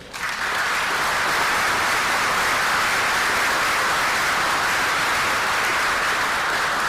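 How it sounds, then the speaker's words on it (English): Audience applause fills the room at a 2015 civic association annual meeting, a dense, steady ovation from a large crowd that holds at full strength throughout with no talking over it. "Please join me for a round of applause."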